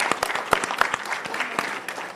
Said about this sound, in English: So I think definitely worthy of a round of applause.